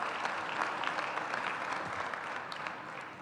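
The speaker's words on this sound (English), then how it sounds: "So let's give a round of applause to our Islanders once again." A large crowd applauds at the opening of an arena that is home to a hockey team, sustained dense clapping with scattered sharper claps, fairly even and gradually easing.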